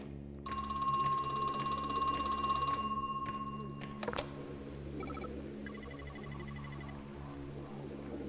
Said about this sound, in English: Not the phone ringing.